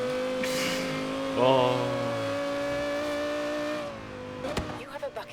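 Toyota Supra engine in Forza Horizon 3 holds a steady high rev with strong harmonic whine, briefly rising, then easing off near the end, with a short exclamation from a player over it.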